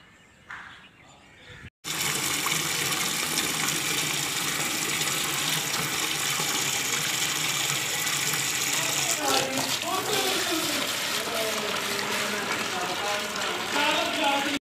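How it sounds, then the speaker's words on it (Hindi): After a brief quiet start, water gushes steadily from a tap into a bucket, a continuous close rushing with a voice faintly audible partway through. "नलके से पानी निकाल कर बाल्टी की मदद से।"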